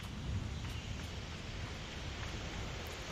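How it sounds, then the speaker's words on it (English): Steady wind rushing high on a tower in the game Sable, a soft, even, broadband whoosh with no voices. "It's very windy up here."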